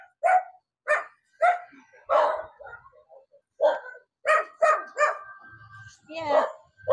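A dog barks repeatedly at close range in short, evenly spaced yaps, with a few whimpering yips between them and a brief whine near the end.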